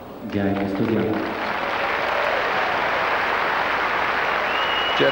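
Spectators clap generously at a 1997 Wimbledon quarter-final tennis match, a dense, steady wash of applause that swells and holds throughout, with a commentator's voice briefly heard at the start and end.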